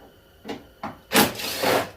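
Bolts being worked loose from the side of the engine computer during a 2002 Saturn S-series engine swap: two short metallic clicks, then a longer rasping ratchet or scrape, close and fairly loud.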